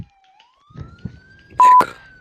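Fire truck siren in a video game, a rising electronic wail running steadily through the clip, with a few short bumps and a loud burst of noise near the end.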